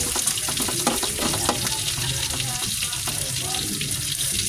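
Garlic frying in oil in a pan while being stirred, a steady bright sizzle with faint scraping, fairly close, with a voice talking quietly underneath.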